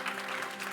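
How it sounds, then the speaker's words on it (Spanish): Brief burst of clapping from a church congregation, dense and steady, heard in a reverberant room. "Denle ese aplauso fuerte al Señor."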